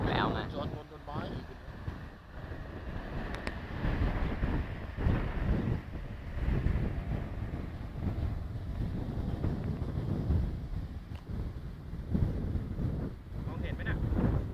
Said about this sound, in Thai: แต่ลมมันแรงดิ